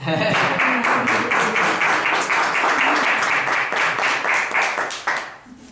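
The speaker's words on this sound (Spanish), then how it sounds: "Se merece un aplauso" A church congregation applauds together in dense, steady clapping that fills the clip before tapering off at the end, with a voice faintly mixed in.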